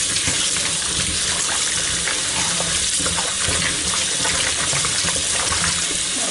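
Running tap water gushes into a bowl of cut potatoes in a kitchen sink, a loud, continuous, close splashing rush with no talk over it.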